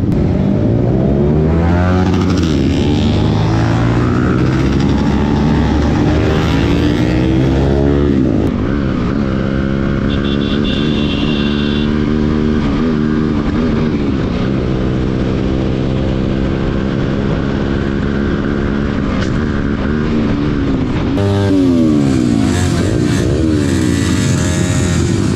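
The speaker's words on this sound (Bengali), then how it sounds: "100 বাইকের প্লাস, 100 বাইক প্লাস।" More than 100 motorcycles ride together at a brother meetup between Jessore and Khulna, roaring loudly and steadily for the full length. Engines rev and swell in overlapping waves close by.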